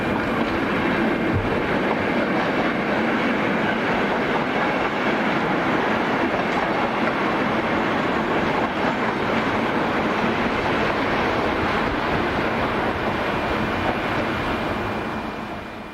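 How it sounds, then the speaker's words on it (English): A Czech Class 451 electric commuter unit rolls past near Prague, a loud, steady rumble and clatter of wheels on track lasting throughout, with a faint squeal and slight fade at the end. "unit is one of a once 51-strong fleet that work local trains around Prague."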